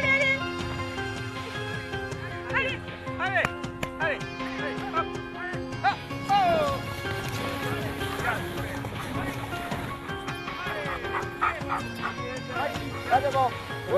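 Sled dogs in the wintry Jura mountains bark and yip excitedly in repeated bursts, with several animals close by and others farther off, while people talk over the commotion.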